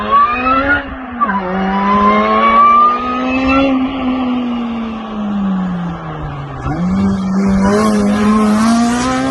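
A supercharged Honda Type R car drives by with a loud, steady engine tone that rises and dips in pitch over about nine seconds, fairly close and with no talking.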